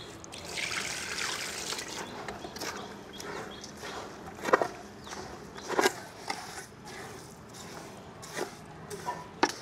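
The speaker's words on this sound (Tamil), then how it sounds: "அதுக்கடுத்து தண்ணி சேர்த்துக்கலாம்." Water is poured and trickled into a clay mixture for building a turbo wood stove, giving a close, gurgling trickle with several sharp splashes and scraping as the mix is worked, with no talking.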